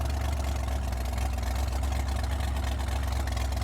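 A 1933 Ford 3-window coupe street rod cruises along with a steady, loud mid-pitched engine drone and constant low rumble, continuous throughout with no talking.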